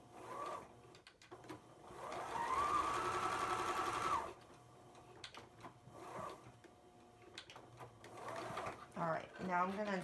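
A sewing machine runs a steady, fairly loud stitching burst lasting a few seconds while backstitching dark thread on a fabric face mask with a filter pocket, with quieter handling noises and a talking voice before and after.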